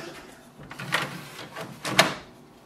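The paper loading tray of an HP Envy 6000e printer, loaded with envelopes, is pushed shut, giving two short plastic sliding clunks about a second apart in a quiet room.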